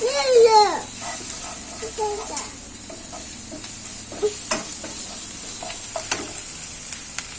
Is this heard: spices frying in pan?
yes